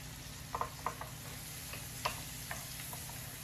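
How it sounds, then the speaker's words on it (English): Faint, steady sauté sizzle of onions softening in a pan, with a few soft taps and scrapes of stirring scattered through, no voices. "We're going to let these saute"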